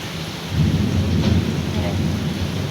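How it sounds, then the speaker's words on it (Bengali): A nighttime thunderstorm roars close by, with low rumbling thunder that swells after half a second, dense heavy rain and gusting wind in a continuous loud wash. "প্রচুর আকারে বৃষ্টি তো বৃষ্টি বাতাস এলোমেলো বাতাস হচ্ছে"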